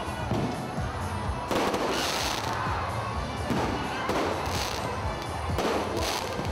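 Festival fireworks crackle and burst continuously over Iloilo, with several louder booms standing out against a dense, distant background of popping.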